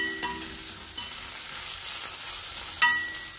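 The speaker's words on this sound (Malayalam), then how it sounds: "ഉള്ളിയൊക്കെ നല്ലോണം മൂത്ത് വന്നിട്ട് ചേർന്നിട്ട് മൂത്താൽ മതി. പൊരിഞ്ഞ് വരുന്നുണ്ട്" Onions fry in a pan for a pepper chicken dish, a steady close sizzle with a couple of soft stirring knocks and no talk.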